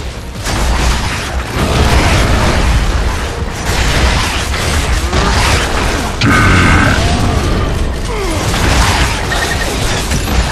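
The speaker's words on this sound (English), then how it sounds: "Throwing frag!" Constant loud game audio from Gears of War 3 fills the scene as a frag grenade is thrown and detonates with a booming burst. Mechanical clanks and battle noise run throughout.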